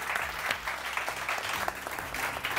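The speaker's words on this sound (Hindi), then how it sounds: "नोमान भट्ट साहब के लिए बहुत सारी तालियां।" A studio audience on a Pakistani morning television show claps steadily, a dense even wash of applause that holds at full strength throughout.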